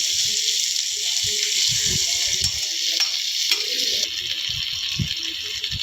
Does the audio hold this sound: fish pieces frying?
yes